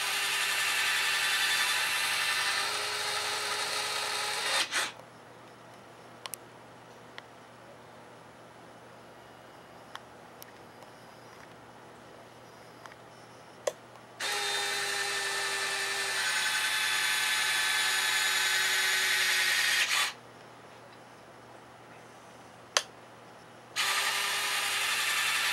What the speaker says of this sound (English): The worm gear motor that's used in this is the same that's in the retract worm gear system that comes with most of the LX models.